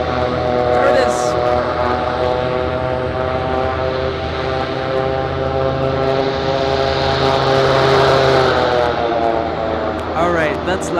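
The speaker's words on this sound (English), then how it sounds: "C-17 from the west" A C-17 military transport aircraft approaching from the west at Anchorage airport, a loud, sustained roaring drone with strong steady tones that swells as it passes close overhead, with people talking faintly underneath.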